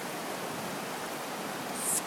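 The Kilchis river in flood rushes past in a steady, broadband roar of fast water, continuous and fairly quiet with no voices.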